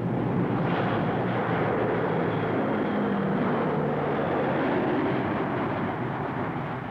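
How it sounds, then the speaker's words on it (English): Military transport aircraft, C-130 Hercules, C-123 Provider and C-7 Caribou, fly overhead during a 1981 airborne exercise, a dense continuous roar of engines and propellers, loud and unbroken. "Chutes filled the skies, dropped from C-130 Hercules, C-123 Providers, and C-7 Caribou aircraft."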